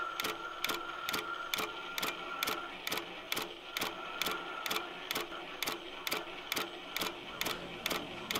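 An INNOVA embroidery machine travels its carriage to the start of a pattern, a steady mechanical whir punctuated by evenly spaced ratcheting clicks, loud and close with no talking.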